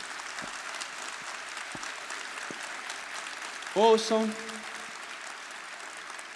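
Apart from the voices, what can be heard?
audience applause for the speaker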